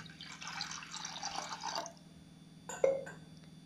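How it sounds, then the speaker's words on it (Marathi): Water being mixed into green chutney in a pot gives about two seconds of close, steady sloshing and pouring, then falls to quieter drips and a few light clinks toward the end. "ही मी चटणी घेतलेली आहे, याच्यामध्ये मी आता पाणी मिक्स करून घेत आहे"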